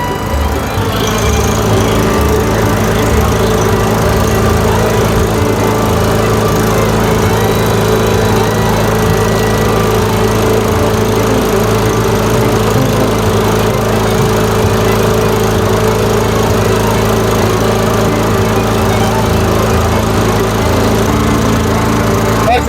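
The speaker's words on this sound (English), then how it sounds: "I'm going to get my tachometer and see what this engine's running at" A smoking lawnmower engine, oily exhaust still burning off, runs continuously and loudly at a steady drone from up close, with no voices over it.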